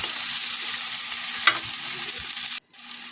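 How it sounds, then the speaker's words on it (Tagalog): Tomatoes sautéing in a pan, giving a loud steady sizzle with stirring scrapes and a brief break near the end before the frying hiss resumes. "Igisa lang uli natin."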